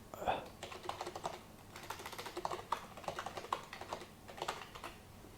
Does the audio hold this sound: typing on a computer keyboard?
yes